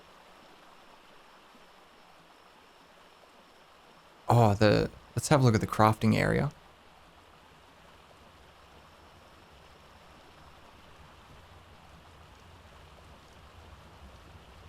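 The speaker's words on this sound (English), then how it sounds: "I think it's starting to rain." Steady rain falls in the survival video game Ark, a constant soft wash of hiss filling the whole clip at moderate level, with someone speaking briefly over it partway through.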